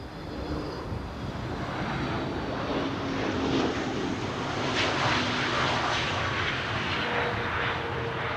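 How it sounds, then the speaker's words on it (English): An Aer Lingus jet arriving from Dublin on Flight 604 lands at Amsterdam Schiphol Airport, its engines a steady, broad roar that swells slightly as it passes fairly close. "Shamrock landing here in the foreground. Flight 604 arrived from Dublin."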